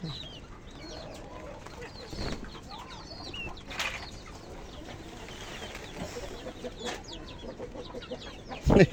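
Native chickens cluck softly here and there across a noisy poultry farm background as rain approaches, with a few sharper calls and a brief flutter near the end.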